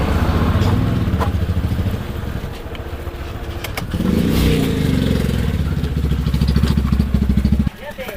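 A motorcycle engine idles steadily while being parked beside a rural elementary school, its low chugging rumble loud and close, rising briefly midway and cutting off near the end, with people talking over it.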